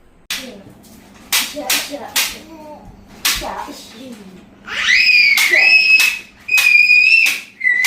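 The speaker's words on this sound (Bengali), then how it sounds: "দেখছেন ভাই গুলি করতেছে, বুনে চিৎকার দিতেছে" Sharp gunshot-like cracks in quick bursts, followed by high, sustained screaming that rises and falls, loud and close.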